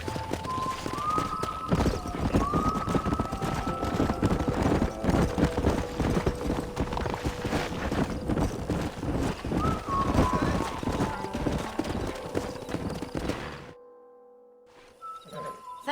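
Horse galloping in the Red Dead Redemption western video game, rapid clip-clop hoofbeats pounding steadily with occasional whinnies and game music tones, then fading to near silence near the end.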